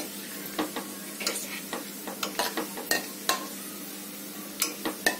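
Whole star anise and cinnamon sticks being dry-roasted in a pan for dal makhni, with a soft steady sizzle broken by repeated spoon scrapes and light clinks against the metal.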